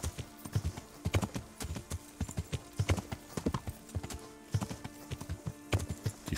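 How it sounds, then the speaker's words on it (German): Horse hooves clip-clopping in a rhythmic, steady beat as a rider gallops cross-country in the medieval video game Kingdom Come Deliverance, close and clear with no talk. "Dann reiten wir hier querfeld ein."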